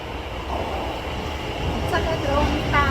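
An Osaka subway train pulls into the station with a steady loud rumble and a rising metallic whine and squeal as it arrives, under station ambience.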